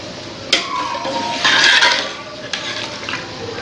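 Whole spices, cinnamon, cloves, green cardamom and black pepper, being stirred into mutton korma in a pot on the stove: a few sharp clinks of a spoon against metal with soft scraping and sizzling in between, close by.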